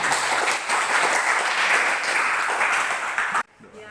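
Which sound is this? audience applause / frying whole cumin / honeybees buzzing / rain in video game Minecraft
audience applause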